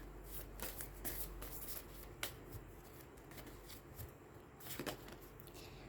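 Tarot cards are shuffled by hand in quick, soft riffling bursts and light taps, close and fairly quiet, with no talking.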